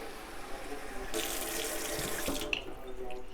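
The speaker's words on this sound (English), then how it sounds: "pour you some water in it from the hydrant, and then pour that off too" Kitchen tap water running into a pot of ground beef to rinse it, a steady splashing rush that swells louder midway and then cuts off, with faint background sounds and no talk.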